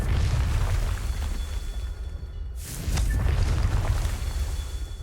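A Confringo blasting spell explodes in Hogwarts Legacy: a loud, sustained roaring blast with a whooshing burst partway through and rumbling low-end, no voices.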